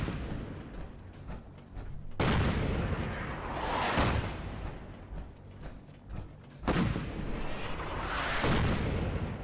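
An artillery strike called in with an artillery grenade in Fallout 4 sends repeated heavy booming blasts, loud and rolling, each impact followed by a long rumbling decay, with no talk over it.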